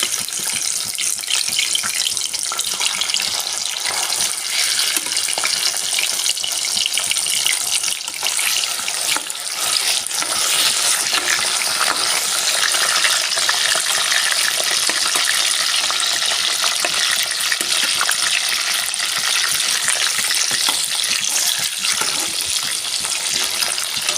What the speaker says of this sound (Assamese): এইপিনে তেল দি ৰাখিছিলোঁ, গৰম হ'ল আৰু এতিয়া ইয়াতে মাছকেইটা দি দিম